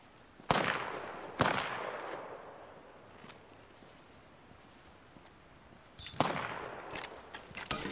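Gunfire in the battle royale game Apex Legends: a few loud, sharp shots, two close together early, then a pause and another cluster near the end, each ringing out with a short decaying tail over quiet background.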